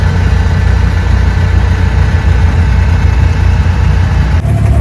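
A loud boat engine drones steadily at idle in Dubai, a constant low rumble filling the whole stretch with no voices.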